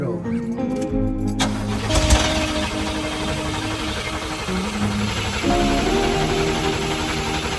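A 1969 Cadillac engine cranks over on fresh gasoline fed from a can, with the starter's steady, rapid churning running for several seconds and voices briefly audible nearby.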